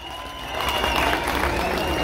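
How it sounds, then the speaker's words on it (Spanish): A crowd at a jaripeo baile during a 2022 patronal festival in Xuchapa breaks into applause and cheering, the dense clapping swelling after a quieter start and holding steady, loud and close. "el primer lugar se lo lleva el Cejas Güeras, escucho el aplauso."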